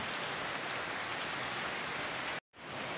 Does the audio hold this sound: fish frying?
no